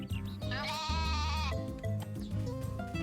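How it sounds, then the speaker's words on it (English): Sheep bleat in the farming game Story of Seasons: A Wonderful Life, giving several loud, close, wavering baa calls in quick succession with no voices. "Our sheep are chasing us down to yell at us."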